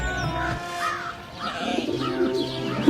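Crows caw over a layered outdoor bed of bird calls in a story sound effect, with harsh calls repeating through the scene and softer coo-like tones underneath.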